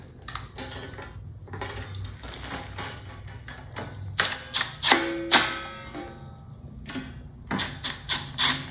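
Small light screws being tightened on a digital LCD photo booth, giving a run of close metallic clicks, taps and ratcheting knocks with a few sharper clacks near the end.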